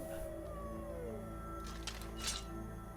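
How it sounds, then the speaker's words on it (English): Wolves howl in the video game Skyrim, a drawn-out wavering cry over a steady background game hum, with a few brighter bursts near the end. "I hear the sound of wolves."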